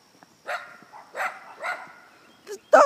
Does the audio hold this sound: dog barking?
yes